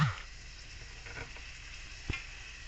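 Miso for a salmon belly sinigang sautéing in a hot pan, a soft steady sizzle with occasional stirring scrapes and one brief louder tap near the end.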